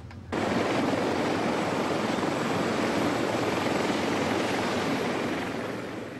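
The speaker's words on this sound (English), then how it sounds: "The noise of the flight deck creates its own fatigue" Roaring jet and helicopter noise fills the flight deck of an aircraft carrier in the Persian Gulf in 1994, a loud continuous broadband blast that starts abruptly and holds steady, easing slightly at the end.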